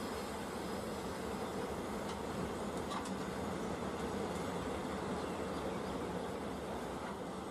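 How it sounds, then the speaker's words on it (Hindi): A saffron-coloured Vande Bharat train passes on a curve, giving a continuous loud rumble of rolling rail noise with faint wheel clicks and no talking. "सैफरॉन वंदे भारत का कर्व बहुत ज़्यादा शानदार था"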